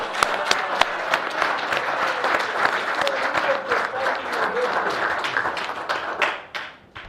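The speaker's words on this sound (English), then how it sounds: "I'll ask all of us to clap for Tonse for winning Petauke again" A room of people at a Tonse Alliance press briefing bursts into applause for the Petauke win, sharp individual claps at first merging into sustained clapping that fades out near the end.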